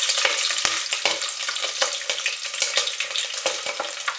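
Mustard seeds, cumin and green chillies fry in hot oil, a close, bright, continuous crackle and sizzle with sharp pops and spatters throughout.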